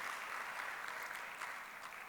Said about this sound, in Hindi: एक बार जरा भरपूर तालियों के साथ उनका स्वागत कर दीजिएगा